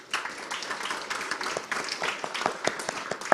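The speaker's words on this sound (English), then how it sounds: "I'd like again to ask for an applause for our panelists" Moderate audience applause for panelists at a global technology summit, steady scattered clapping with distinct individual claps, heard fairly close and alone for a few seconds.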